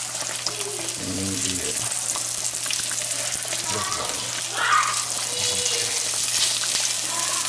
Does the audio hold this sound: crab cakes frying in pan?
yes